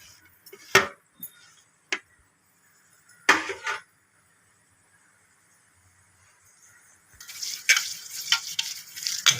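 A few short scraping and clinking strokes of a utensil in a new clay pot, then a denser sizzle and rustle of grated coconut frying toward the end, close and fairly quiet.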